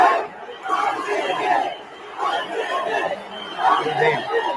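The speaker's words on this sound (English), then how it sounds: "I think they are also cheering for RCB only, the Chennai fans." Chennai fans in the stands at Chepauk stadium during an RCB match against CSK, a dense crowd of shouting and chanting that swells in waves, heard from within the stands.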